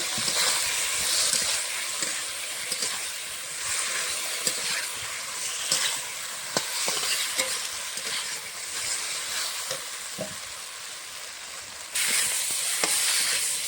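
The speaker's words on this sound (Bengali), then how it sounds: "ভেজে রাখা আলুটা দিয়ে কিছুক্ষণ কষিয়ে নেব" Fried potatoes sautéing in oil-released spice paste for a Bengali rohu fish curry, a steady close sizzle with frequent stirring scrapes and clicks running throughout.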